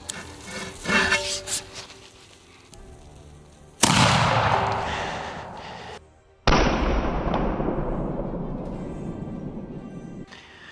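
A black powder smoothbore gun fires at steel armour with two loud, close blasts, each followed by a long rumbling decay, after some earlier clatter and handling noise.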